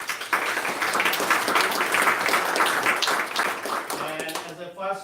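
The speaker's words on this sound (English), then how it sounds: "So big hand of clap for them." An audience at a tech meetup claps for the event's sponsor, a sustained burst of applause with voices faintly underneath, fading out near the end.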